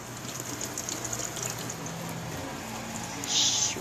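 Running tap water rinses soap suds out of a paint brush, a steady close splashing wash that swells louder near the end.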